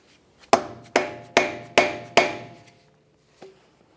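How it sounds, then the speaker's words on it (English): Four sharp hammer blows on a stuck front wheel locking hub of a 2011-2016 Ford F-350, evenly spaced and ringing briefly, followed by a softer fifth knock after a pause. "Just give it a couple loving bonks with a hammer to break it free."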